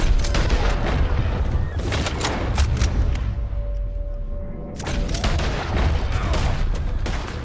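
A gunfight in Red Dead Redemption 2 with repeated close gunshots in dense irregular volleys, easing for a moment before fresh shots crack again.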